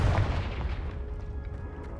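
Confringo fire spell blasting in the Hogwarts Legacy video game on PS5, a heavy booming impact with a low rumbling tail, loud and close, with no talking.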